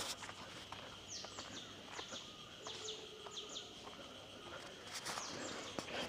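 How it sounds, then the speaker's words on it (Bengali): Birds chirp outdoors in the hills, several short high calls scattered across a quiet, breezy open-air background, with occasional soft rustles and no talking. "কিন্তু পাখির আওয়াজ"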